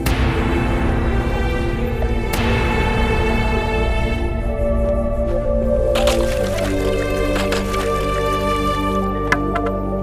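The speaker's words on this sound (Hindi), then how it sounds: "अब इन दोनों घड़ों को आप तोड़ दीजिए।" Two clay pots crack open with sharp breaks, followed by water spilling and dripping, all over a continuous tonal drone.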